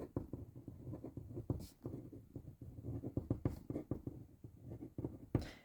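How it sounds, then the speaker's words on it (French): Pen nib scratching steadily across letter paper, close and quiet, in a rapid irregular run of small strokes with no talk. "je vais écrire gratitude, et important 3 fois"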